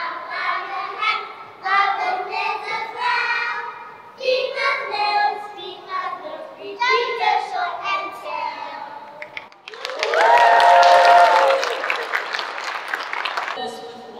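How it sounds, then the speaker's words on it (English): A voice speaks for several seconds, then a loud burst of crowd applause and cheering swells for a few seconds before speech resumes. "So please give these little gems a big round of applause."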